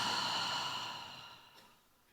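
One slow, deep out-breath, close and breathy, fading steadily away to near silence.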